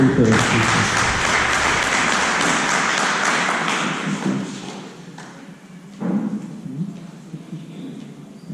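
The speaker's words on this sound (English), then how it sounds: "Please give Ursula a round of applause" Sustained applause from a crowd fills the first several seconds, then fades out as the room quiets, followed by a few faint thumps and shuffling.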